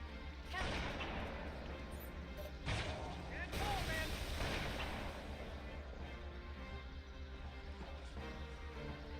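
Rocket launches and explosive blasts in the Halo 2 video game, loud booming bursts near 0.6, 2.7 and 3.5 seconds over a dense, continuous battle din.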